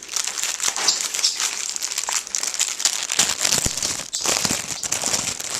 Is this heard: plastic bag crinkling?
yes